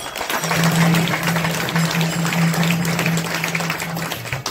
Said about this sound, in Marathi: टाळ्या वाजवलं सगळ्यांनी